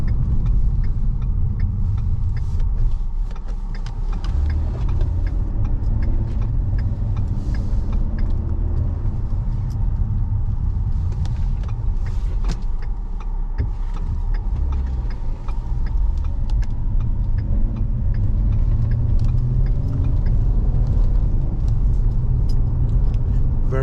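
A 2013 Ford Explorer Police Interceptor fitted with an amber and white light bar drives along the road, giving a steady, continuous rumble of engine and road noise that stays loud and even throughout, with no talk.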